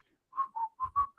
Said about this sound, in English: And they whistle.